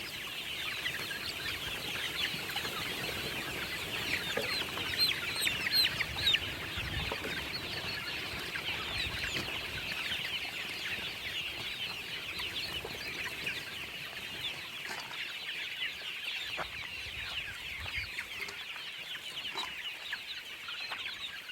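Desi hens cluck steadily on a Pakistani poultry farm, a dense, continuous chorus of overlapping fowl calls filling the space with no speech.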